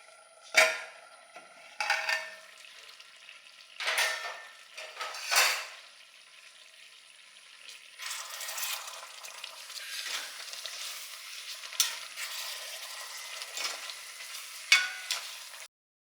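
Chicken curry cooking in a pot, stirred now and then, with a soft sizzle and scattered scraping and clinking of a utensil against the pot in short bursts, then a steadier bubbling fry.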